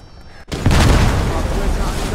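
An explosive detonation in the Squad video game hits abruptly after a quiet moment, then rolls into a loud, sustained booming rumble with debris-like noise trailing off, while a voice talks over it.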